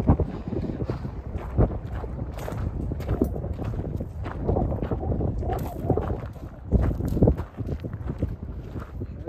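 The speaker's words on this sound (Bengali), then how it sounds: "ওরে বাতাস" Gusty mountain wind on a hiking trail in Hatta, UAE, roars across the microphone, swelling and dropping in loud surges over the whole stretch.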